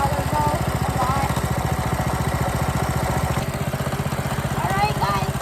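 A Coleman mini bike engine idles while warming up, a steady, loud, close putter with an even rapid pulse that holds throughout, while faint voices come and go over it.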